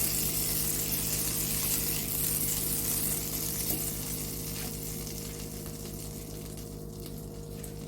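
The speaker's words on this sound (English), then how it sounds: "So here my butter is melting." Butter melting in a pan on a stove over medium heat, giving off a steady, continuous sizzle and crackle with a constant low hum beneath, close and moderately loud throughout.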